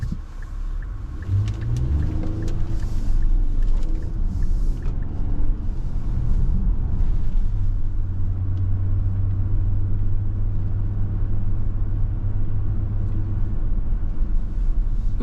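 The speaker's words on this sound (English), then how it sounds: "Just stayed quiet for a few seconds to let you hear the inside" Steady low rumble inside the cabin of a 2025 Nissan Pathfinder SL 4x4 on the move, a constant road and engine drone with faint tire hum and a brief low whine midway, no talking.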